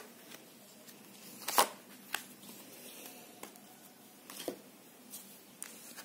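Tarot cards being shuffled and drawn by hand, soft papery flicks and light slaps close by, with a few sharper snaps among quiet rustling.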